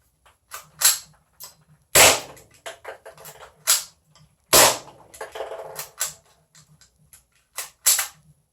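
Gas blowback airsoft Glock pistol firing a series of sharp, loud cracking shots at irregular intervals, some spaced apart and a few in quick pairs, heard close with no talking.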